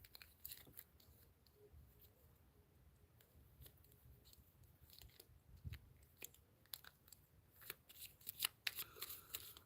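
Tarot cards are shuffled close by but faintly, giving soft papery riffles and taps that grow busier and more rapid toward the end.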